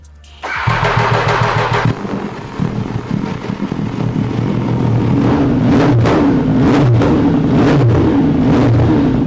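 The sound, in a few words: motorcycle first startup with new flame-shooting exhaust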